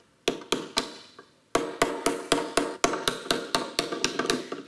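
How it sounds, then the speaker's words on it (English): A small hammer taps repeatedly on frozen ice eggs, about sixteen sharp cracking blows in a steady rhythm after a short pause, close and clear. "We can grab a chopstick and a little hammer here and maybe try to crack them open."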